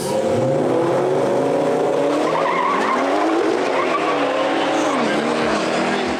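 A stock turbo BMW 340i (F30) with all-wheel drive loses traction at a drag strip launch. Its tires squeal and skid loudly and continuously under a roaring engine, with crowd noise around it.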